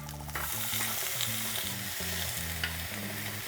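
Tomatoes sizzle and crackle steadily in a hot frying pan, with a low background hum running underneath the bright hiss.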